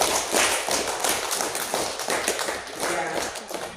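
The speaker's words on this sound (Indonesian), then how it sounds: "Mari kita tepuk tangan buat pengurus kita" Congregation at a Sunday Lenten parish Mass claps for the parish committee, a dense, close burst of applause holding strong throughout with a few voices mixed in.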